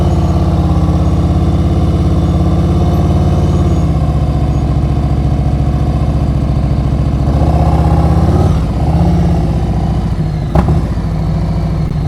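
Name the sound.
motorcycle engine during slow-speed riding practice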